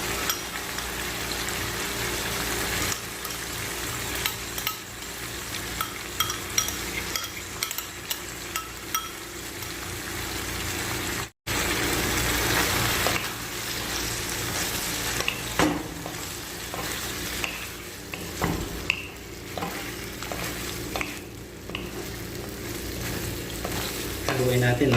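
Sweet spicy squid is stirred with a seasoning mix in a hot pan, giving a continuous sizzle broken by scraping utensil strokes and occasional clacks, with a brief dropout midway.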